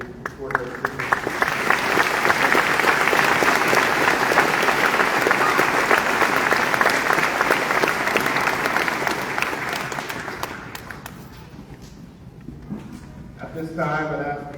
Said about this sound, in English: I believe our teachers and staff members deserve a round of applause for their hard work and dedication toward their students.